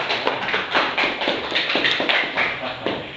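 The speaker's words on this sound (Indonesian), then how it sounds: "Iya, tepuk tangan buat Yogi" Classroom applause for a student named Yogi, a steady patter of many hands clapping together for a few seconds, close and fairly loud.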